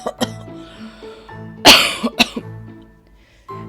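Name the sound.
old woman coughing in a hut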